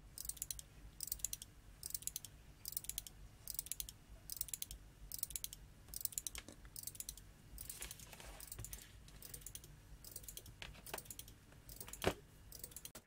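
Rapid, steady clicking of relays repeating in a regular rhythm, with a few sharper snaps standing out near the end.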